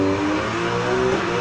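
A 2018 Porsche 911 Targa 4 GTS holds a long drift in Need for Speed Heat, its engine droning loud and steady at high revs with a faint tyre hiss underneath, close and without talk.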